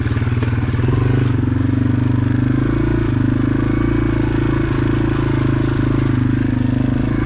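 A Yamaha TW200 dirt bike rides through mud near an old garbage dump, its single-cylinder engine throbbing loudly and steadily up close with rattling clatter, no speech.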